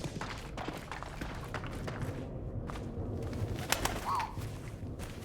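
A pigeon coos in the video game 11-11: Memories Retold, a soft call heard amid low background noise and faint thuds.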